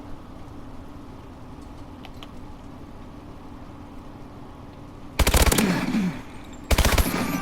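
Bursts of AMR9 submachine gun fire in the video game Call of Duty Advanced Warfare, two loud rapid volleys near the end after a quiet stretch of ambient game noise, heard alone and up close.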